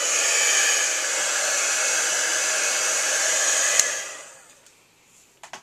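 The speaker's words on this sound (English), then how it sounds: "now we're just going to grab our heat tool and we are going to heat emboss that image" Steady blowing whoosh of a heat tool melting embossing powder on a stamped card, loud and close, then switching off and fading near the end, followed by a few faint handling taps.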